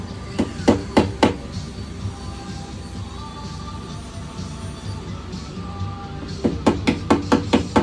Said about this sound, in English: I take my snap blade, I'll set it right on that line in that groove that I kind of preset, and just tap this in here